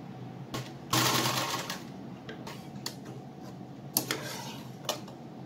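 A sewing machine stitches a small cotton frock for a Laddu Gopal idol, running in short bursts of rapid clattering separated by pauses and scattered clicks, close and moderately quiet.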